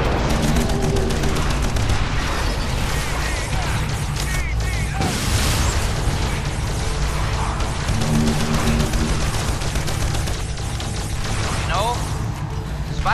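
Dense, continuous gunfire and missile explosions from the video game Earth Defense Force, loud and sustained throughout the clip, with players talking over the combat.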